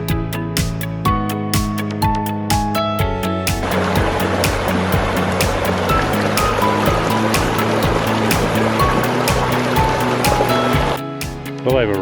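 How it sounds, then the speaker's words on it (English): Small creek flowing beside a trail in Colorado, a steady broadband rush of water running continuously and fairly close, with bright plucked music tones over the first few seconds. "we're going to be following this nice little creek here."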